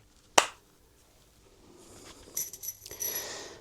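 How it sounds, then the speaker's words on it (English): A single sharp hand clap sounding close and alone, used as a sync mark in a leaking garage, followed by quiet shuffling and rustling. "Where they clap, and then they know they've got a reference point."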